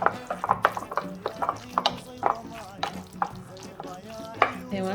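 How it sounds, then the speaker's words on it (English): Ground turkey meatball mixture for Sudanese kufta being mixed by hand in a bowl, with soft irregular squishing and stirring sounds close up, repeated in uneven bursts. "Then you're just gonna mix everything up."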